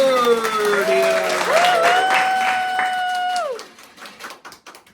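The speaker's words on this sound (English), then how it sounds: "So, round of applause, everyone, for Birdie." During a puppet show, an audience claps for a puppet co-host while a high, sliding voice rings over the noise, and the applause thins into a few loose claps at the end.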